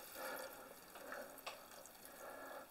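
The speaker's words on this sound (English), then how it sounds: "So we're gonna slowly water." Water poured slowly onto the soil of a potted coleus plant indoors in winter, running into the drip pan; a faint, steady trickle with no voices.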